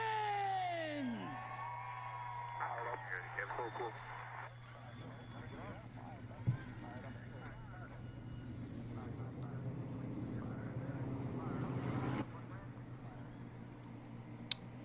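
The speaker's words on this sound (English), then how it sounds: "Drivers, start your engines!" V8 Supercar race car engines start and rumble at a stadium race in the Hankook Tyres V8 Supercar Challenge. A steady low drone and broad roar run throughout under a commentator's voice.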